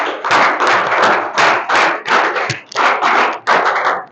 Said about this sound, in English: Miss Rusda, just come, clap for her